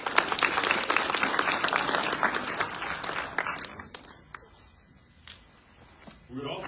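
Audience applause fills a retirement ceremony for a senior master sergeant, loud and sustained for about three seconds before fading into quieter room sound with scattered claps and faint voices.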